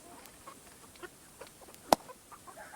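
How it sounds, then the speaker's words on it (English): Chickens cluck softly in scattered short notes nearby, with one sharper, louder squawk partway through. "Watch out, poor chickens."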